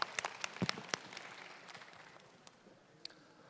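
A small audience at a citizens' roundtable meeting gives a brief, sparse round of applause, a handful of distinct claps at the start that quickly thin out into faint scattered claps in a quiet room.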